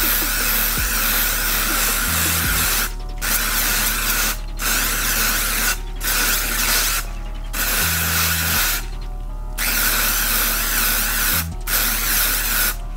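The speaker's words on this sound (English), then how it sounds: "when you spray it, you want to make sure it's like some nice, even, thick coats around the whole entire sneaker" Paint hisses from a spray can onto an Air Jordan sneaker in long, loud, steady bursts with brief pauses between passes, close up.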